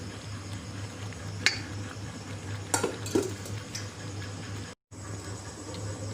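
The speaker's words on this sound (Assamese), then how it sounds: "এইখিনি এতিয়া মই ভালদৰে মিক্স কৰি ল'ম।" Boiled macaroni being stirred into white sauce in a pan, with a steady low background hum, a few sharp utensil clinks against the pan, and soft scraping throughout.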